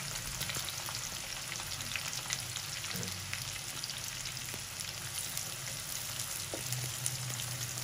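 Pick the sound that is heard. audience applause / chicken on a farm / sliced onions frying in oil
sliced onions frying in oil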